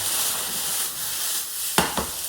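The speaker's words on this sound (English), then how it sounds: "garlic in, because now I can hear it starting to sizzle again" Minced pork and garlic fry in a pan with a steady close hiss of sizzling, broken near the end by a couple of sharp scraping stirs.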